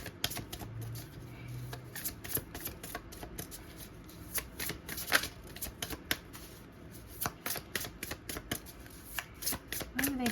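Tarot cards are shuffled close by in a long run of crisp riffling and snapping bursts with an uneven rhythm and short breaks, fairly quiet.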